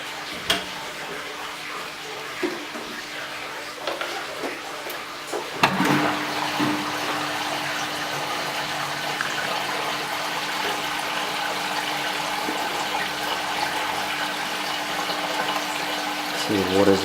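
Aquarium canister filter switched on to push water out of its outlet: a brief mechanical clunk, then a continuous loud rush of flowing water with a steady pump hum underneath, preceded by quieter handling noises.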